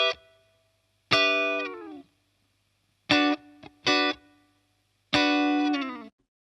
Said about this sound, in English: this is the sound of the guitar.